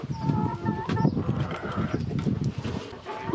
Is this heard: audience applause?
no